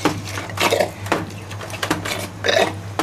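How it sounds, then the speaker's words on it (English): Vegan vegeroni ingredients being mixed in a bowl, with close clinks and scrapes of a utensil against the dish in irregular bursts over a faint low hum. "I suggest you just continue mixing them both"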